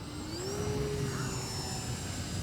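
An E-flite Turbo Timber electric RC airplane taking off, its motor whining with a steady rising tone over a windy outdoor rush, moderately loud.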